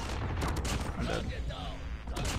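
Rapid gunfire from an unknown weapon in a Call of Duty Mobile 3v3 capture-the-flag match, dense bursts running throughout with game effects beneath.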